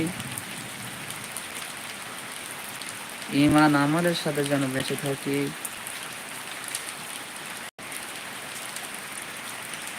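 Steady rain falls throughout an outdoor Islamic sermon gathering, a constant hiss that sits under a preacher's voice as he speaks in the middle of the clip.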